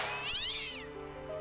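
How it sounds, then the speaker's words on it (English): A cat meows from inside a battered old trash can in the adventure game Broken Sword: Shadow of the Templars Reforged, one drawn-out rising and falling cry, clear and close over a quiet background hum. "Oh, kitty cat."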